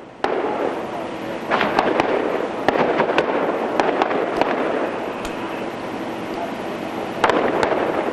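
Rapid volleys of gunfire from a police shootout in Pittsburgh, sharp cracking reports in dense irregular bursts over a steady background, with faint voices underneath.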